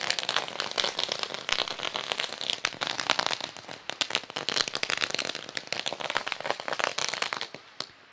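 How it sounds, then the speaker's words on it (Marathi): Firecrackers burst at the ceremony of a village premier league cricket tournament. A loud, dense string of rapid crackling pops runs for about eight seconds, then thins out at the very end. "फटाक्यांची आतषबाजी"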